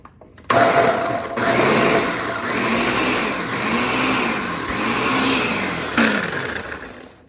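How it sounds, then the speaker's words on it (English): A food processor whirs loudly in several bursts, its motor grinding and pulsing as it chops chickpeas, then cuts off abruptly near the end. "You just need a food processor or a high-powered blender"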